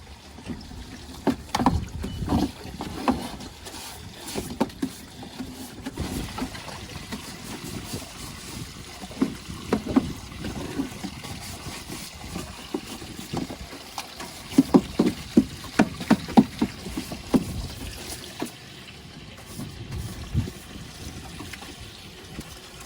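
Water runs and splashes while a hose rinses dirt out of an air conditioner, an uneven patter and trickle with irregular louder bursts and no voices.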